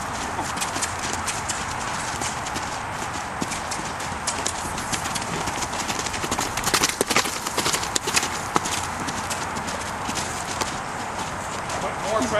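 Hooves of a three-year-old mustang gelding clip-clop steadily on firm ground, close by and continuous, with light movement and someone talking over it.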